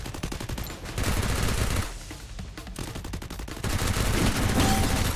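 Dense automatic gunfire from the Free Fire mobile battle game, long rapid bursts that fill most of the stretch, briefly thinning in the middle before resuming loud and close.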